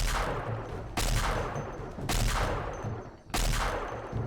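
Repeated weapon fire from Fallout 2 and New Vegas guns, such as laser and plasma rifles and pistols, in a Project Zomboid mod: four loud, sharp blasts roughly a second apart, each trailing off in a long reverberant decay.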